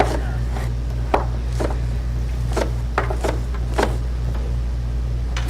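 A knife chops a zucchini into half moons on a cutting board, with a dozen or so crisp, unevenly spaced strikes over a steady low hum.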